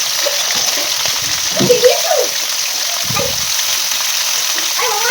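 Drumstick pieces and potatoes fry in hot oil with nigella seeds in a kadai, a close, continuous loud sizzle with occasional stirring scrapes and a soft voice briefly under it.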